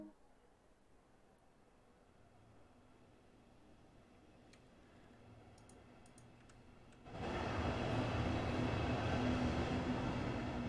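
Dresden commuter train in the Train Sim World 2 video game pulling away, quiet cab clicks giving way to a sudden loud, steady rumble of the departing train.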